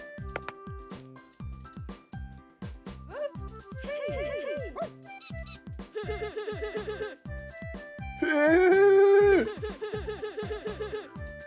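Cartoonish dog barks from the cute item-finding video game Lost and Found Co. sound in a rapid string of short, bouncy yips and squeaky calls, growing louder toward a longer sustained cry before quick chirps resume.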